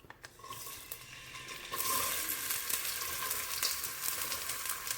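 Onions go into half a cup of hot oil in a pan for homemade chicken haleem, and the frying sizzle swells from a quieter start into a steady, close, loud crackle with no talking.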